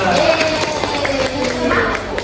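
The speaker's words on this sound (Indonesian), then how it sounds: "Beri tepuk tangan untuk kelompok 1 dan 2" A primary school classroom of students claps for student groups after a science presentation, a loud, busy burst of hand claps mixed with excited chatter throughout.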